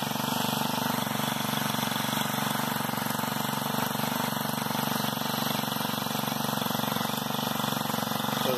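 A Honda GX25 engine mounted at the rear of a motorized bicycle idles steadily, a continuous close buzzing drone with no breaks and no talk.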